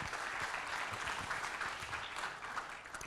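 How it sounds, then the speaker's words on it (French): Audience applause fills a room at a corporate building-performance event, a dense, steady wash of many hands clapping that continues evenly throughout with no voices. "Alors, vous pouvez l'applaudir"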